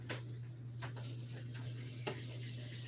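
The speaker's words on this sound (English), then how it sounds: "And stir until moist" Breadcrumb mixture being stirred in a bowl for a Hero's Feast dish, soft scraping and crackling strokes in an uneven rhythm over a steady low hum, close and fairly quiet.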